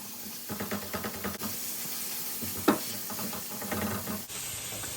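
Meat cooking for a marinara bolognese sauce sizzles steadily in a pan while a spatula's edge chops it apart, giving a run of soft scraping taps and one sharper clack over the constant hiss.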